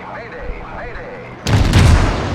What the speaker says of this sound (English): We're going to fire a little bit more HE at him